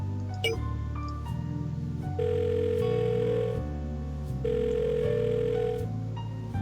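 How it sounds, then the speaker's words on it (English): In the Blackwell video game, a phone call rings through as a repeated electronic ringback tone, two long steady bursts heard clearly over continuous background music. "We're gonna call Elaine Appleton apparently."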